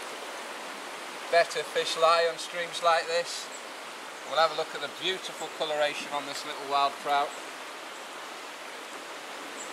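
A small stream flows with a steady soft rushing hiss that runs the whole time beneath a man's close, continuous talking.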